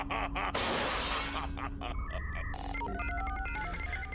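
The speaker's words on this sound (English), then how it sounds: "More phone noises." Animated Micron robots beep in bright, phone-like electronic tones, a run of short pitched chirps rising through the second half over a busy, loud backdrop.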